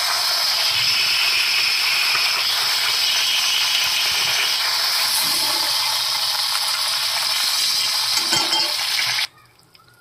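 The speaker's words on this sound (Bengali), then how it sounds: "আমি সব একই রকমভাবে সব মাছগুলো ভেজে নেব।" Fish pieces frying in oil in a home kitchen, a steady, dense hiss and crackle that holds evenly for about nine seconds, then cuts off abruptly into near silence.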